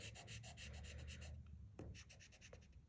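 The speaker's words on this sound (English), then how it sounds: "what I'm gonna do is erase the rest of this grid" An eraser rubs pencil grid lines off a paper drawing, giving a close, soft, rhythmic scrubbing of quick back-and-forth strokes, then a short pause and a few lighter rubs.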